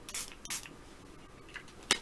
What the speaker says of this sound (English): I have the fruit enzyme spray right here